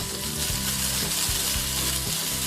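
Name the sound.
stirring tamarind and chili frying in pan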